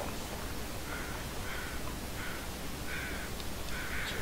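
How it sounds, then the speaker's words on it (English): Crows cawing in The Long Dark survival video game, several short harsh calls spaced a second or so apart, faint over a steady hiss of wind-like background noise. "Your weather crows."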